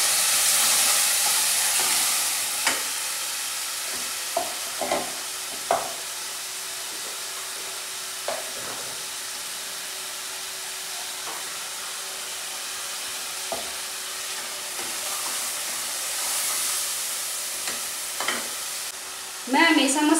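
Tempering spices for a bottle gourd (lauki) dish sizzle and crackle in hot oil, a steady hiss with scattered pops and a few stirring scrapes throughout.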